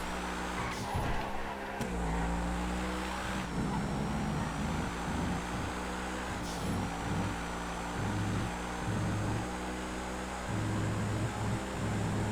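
Kia Stinger GT engines racing in a crowded multi-class GTA FiveM race, a steady close engine drone with shifting revs that runs throughout, with no talk.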